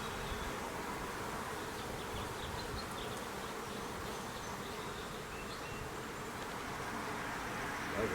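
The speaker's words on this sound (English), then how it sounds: "Box of bees. Another nice box of bees." A swarm of honey bees in a box, collected during a suburban swarm transfer, gives a steady, dense buzzing hum that holds at an even level throughout with no talk.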